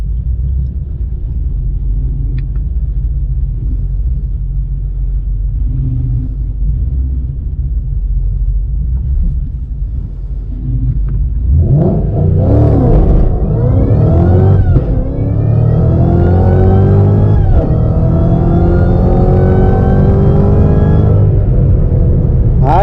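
A Ford Mustang GT500 fitted with an N2MB WOT Box rumbles at the line on a dragstrip, then launches with a rising roar. The engine climbs through repeated upshifts, loud and close, with no speech.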